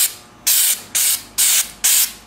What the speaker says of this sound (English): I'll be back with black along the bottom. Little rock guard action.